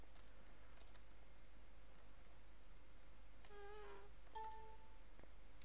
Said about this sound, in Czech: A cinknulo mi, že kopírování na flešku je hotový.